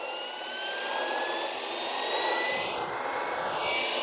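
A steady high-pitched whine of the small electric motors of a Fly Wing MH-60T Jayhawk model helicopter spinning, with a constant airy roar that holds level throughout, no voices.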